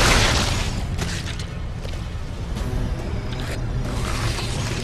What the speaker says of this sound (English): Here, you want a pipe bomb?